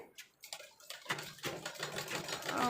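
A sewing machine stitches along a blouse sleeve in short rapid runs, starting and stopping, close by and moderately loud.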